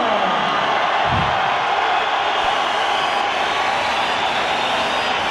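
Dense, steady roar of a large boxing arena crowd in Belfast greeting Amir Khan as he enters, a broad, unbroken wash of cheering and noise with no pauses.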